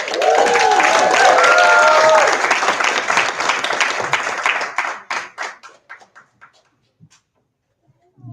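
Audience applause and cheering at an awards gala rises in a dense, loud wash with a few shouts, then thins into scattered individual claps and fades almost to silence.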